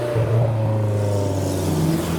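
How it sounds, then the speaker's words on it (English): Several cars, including a Nissan S14, Toyota Celica and Honda Prelude among JDM cars, idle and creep through a car park at a Japanese car show, with steady loud engine drone and rising revs throughout. "Cars are manoeuvring around the parked up S14, the Celica and the Prelude."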